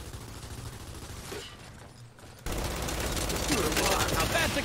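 Gunfire in Gears 5 Horde mode: after a quieter stretch, sustained rapid bursts of weapon fire erupt loud and close amid game effects, with a voice talking at times.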